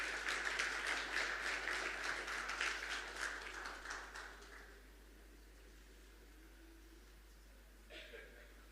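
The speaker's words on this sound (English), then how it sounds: "Let's just clap our hands as they're coming over." An audience claps hands for speakers arriving at the front at a science festival, a steady burst of applause that fades out after about four seconds, leaving quiet room noise and a faint bump near the end.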